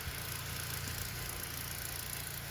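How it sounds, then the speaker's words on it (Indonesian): A used car engine running on worn oil idles steadily, a continuous even hum with no talking. "Untuk suara mesin ini masih lumayan ya, oil pump juga masih bagus"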